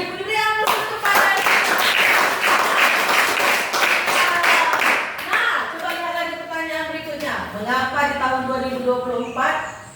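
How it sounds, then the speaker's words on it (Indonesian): Classroom applause for students in an elementary religion lesson, a burst of many hands clapping together that lasts several seconds, then fades as children and a teacher begin talking. "Pintar kali anak ibu, diberi aplaus kepada"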